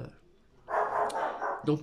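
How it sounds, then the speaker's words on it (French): A dog barks in short bursts, fairly close, mixed with a person speaking. "il a cessé d'aboyer, vous l'avez entendu, et il se fait entendre de temps en temps"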